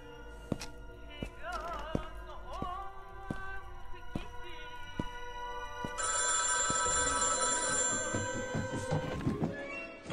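Telephone ringing in a horror video game, a repeated electronic ring that starts partway through and carries on steadily over tapping, thudding game sounds.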